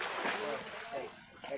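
Children swimming and splashing in a natural swimming pool, with water splashes and sloshing heard under someone talking nearby.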